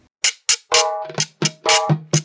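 A vallenato guacharaca scraper plays a son rhythm on its own, loud and close, with short sharp strokes alternating with longer drawn scrapes in an uneven, swinging pattern.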